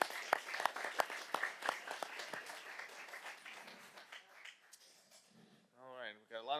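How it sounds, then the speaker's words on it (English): A school board meeting audience applauds students, scattered clapping that thins out and fades over several seconds before a voice begins speaking at the end. "One more round of applause for our students."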